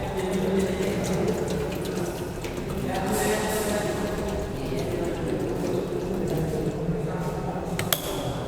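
Water runs steadily into a saucepan, 350 ml measured in for cooking noodles, with a continuous close splashing flow throughout and faint kitchen clatter.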